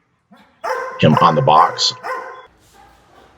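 A dog gives a quick bark during prey-guarding training over a bite sleeve, overlapping with someone speaking close by, followed by quieter background sound.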